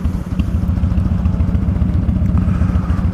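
Buell XB12SX motorcycle engine idles nearby with a loud, lumpy, uneven V-twin beat, a steady low pulsing rumble with slight mechanical clatter, no voices over it.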